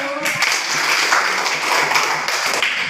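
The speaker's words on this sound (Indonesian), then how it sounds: "Tepuk tangan dulu untuk kelas 7." A classroom of seventh-grade students applauds together, a continuous wash of many hands clapping at moderate distance, fairly even throughout with a few accented claps.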